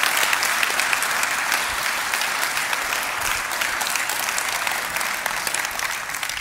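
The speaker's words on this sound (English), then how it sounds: "Let's give God a round of applause." A church congregation applauds in a steady, sustained wash of clapping that stays at an even level throughout, with no voices rising above it.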